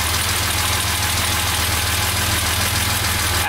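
A car engine idling with SU carburettors set to a rich mixture runs in a loud, steady, close hum with an even low pulsing throb and no voices.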